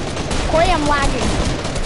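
Rapid video game gunfire crackles through a multiplayer firefight, dense and steady for the whole moment, with excited players talking over it.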